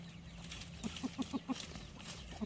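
Farmyard hens and chicks, with a rooster nearby, give a quick run of clucks about five times in a row, then one more cluck after a pause. A faint steady background hum sits underneath.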